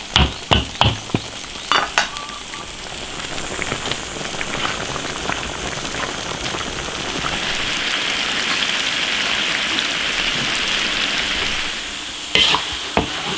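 Potatoes and pig trotters simmering in a large iron wok, a constant bubbling hiss that swells midway, with sharp clacks of a utensil against the metal at the start and end, no voices.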